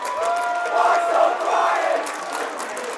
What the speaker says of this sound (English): the away crowd on their feet as they are just amped by how well their team is playing right now